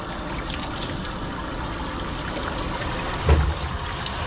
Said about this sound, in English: Just gonna rinse him.